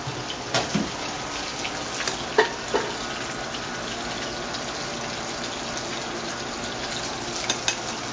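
Boiled diced potatoes and celery root are drained from a cooking pot, giving a steady rushing, hissing pour of water with a few sharp knocks of the pot, close and continuous.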